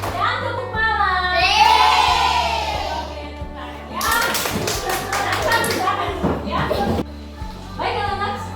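Children in a classroom clap in patterned bursts during a call-and-response clapping game, with a teacher's voice chanting the rhythm over the claps.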